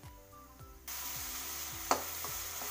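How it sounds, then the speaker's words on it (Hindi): Chopped onion tipped into a hot tempering of cumin seeds and bay leaves, bursting into a steady sizzle that stays close and fairly loud, with a brief clatter of stirring partway through. "अब ये देखिए हमारा बघार हो चुका है। अब इसमें हम डाल देंगे प्याज।"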